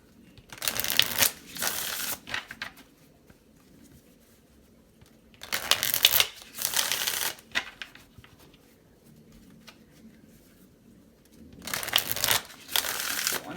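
Playing cards are shuffled close by in three separate bursts of riffling, with quiet pauses between them and no talking.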